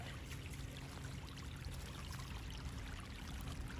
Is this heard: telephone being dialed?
no